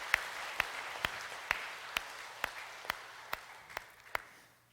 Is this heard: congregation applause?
yes